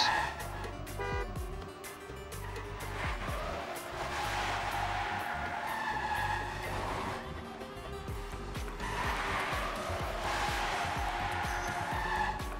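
Race cars in Trackmania, racing through a custom block on the second map of a team match, engines droning steadily with tonal whines rising and falling throughout, loud and continuous.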